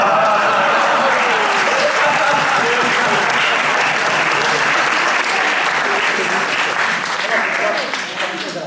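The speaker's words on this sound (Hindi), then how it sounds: "अगर आप लोग जोरसन के लिए तालियां नहीं बजाएंगे तो अगले जन्म में घर घर में जाके तालियां बजाएंगे।" Sustained audience applause for poets at a Holi community poetry event in Houston, steady and loud throughout, easing slightly at the very end.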